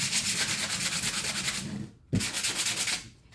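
Wood being sanded for a condiment caddy: a steady, close, loud rasping rub that breaks off briefly near the middle with a soft knock, then resumes just as continuously.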